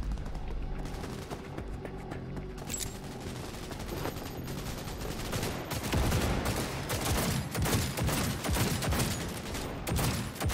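Sustained automatic gunfire in Cyberpunk 2077, dense rapid bursts from heavy weapons rattling almost continuously and growing more intense midway, loud and close with no speech.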